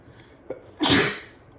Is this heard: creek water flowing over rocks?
no